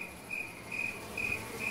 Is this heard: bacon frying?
no